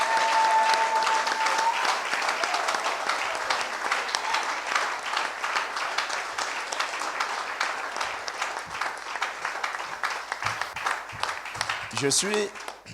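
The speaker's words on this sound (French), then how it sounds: "Acclame très fort pour le Seigneur Jésus." A church congregation at a Sunday worship service in Ngaoundéré applauds loudly and continuously, a dense wash of clapping and cheering with voices rising through it and sharper claps near the end.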